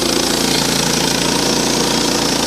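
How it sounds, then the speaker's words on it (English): A Frontier OS18 portable sawmill engine runs loud and close while milling juniper, a steady, unbroken mid-pitched drone with a slight rapid pulsing and no talk over it. "Now you hear that engine?"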